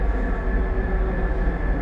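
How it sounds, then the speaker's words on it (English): Train from Train Sim World on the Peninsula Corridor line, a steady loud rumbling drone with a sustained tonal hum throughout, no talk. "There's our train."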